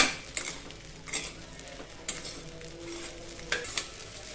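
Sabudana khichdi with peanut powder and salt sautéed in a pan, a soft frying hiss broken by several sharp scrapes and clinks of a spoon stirring against the pan.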